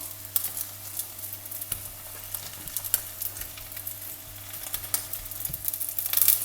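Egg parotta fries undisturbed on a hot pan with a soft, steady sizzle and scattered crackles, fairly quiet and close, with no talk.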